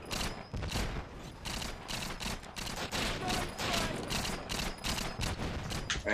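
Dense, continuous automatic gunfire from GoldenEye 007 on the Wii, rapid overlapping bursts filling the whole stretch at a steady moderate level with no talking.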